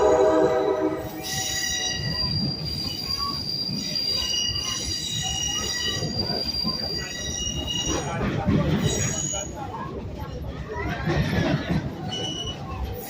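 A train at Stone Mountain Park rumbles along the rails in a steady, loud roar, with high wheel squeals ringing over it throughout.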